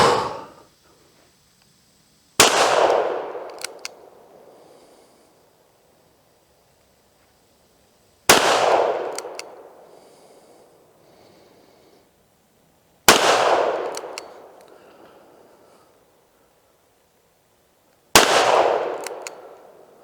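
Five loud, sharp revolver shots from a Chiappa Rhino .357, spaced several seconds apart outdoors, each with a quick ringing decay into near silence.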